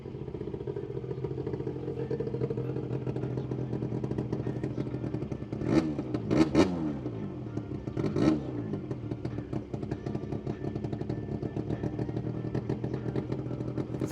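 A motorcycle with a very loud, modified muffler roars past, its exhaust rising in pitch and falling away in two or three quick passes over a steady rumbling traffic background.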